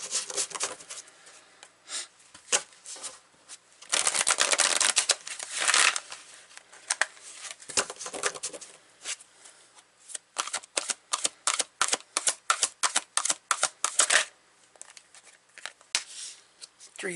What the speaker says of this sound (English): Let's pull some beautiful tarot cards.